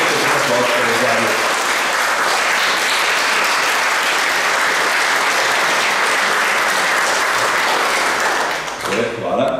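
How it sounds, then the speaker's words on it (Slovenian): An audience applauds at a ceremonial gathering marking the 40th anniversary of the regional chamber of crafts and small business in Domžale. The clapping is loud and sustained, then fades near the end. "Pa lahko damo še en aplavz"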